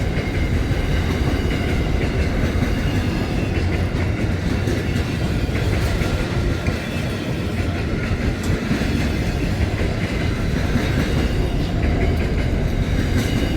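Aurizon freight train of well wagons, some double-stacked, rolling past on the Perth to Melbourne line, a loud steady roar with continuous clickety-clack of wheels over rail joints, close and unbroken throughout.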